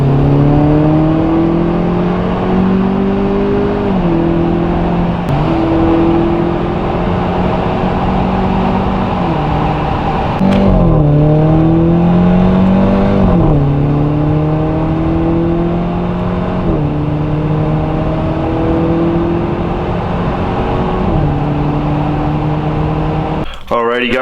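Car engine in the 8.4 pulls hard through repeated gear changes on a drive, the engine note rising and dropping in steady cycles, loud and close from inside the cabin.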